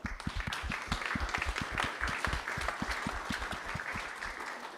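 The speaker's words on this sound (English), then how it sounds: "Give you a round of applause." An audience at a local AI innovation meetup in Brighton claps in sustained, dense applause, the many hands close and lively throughout.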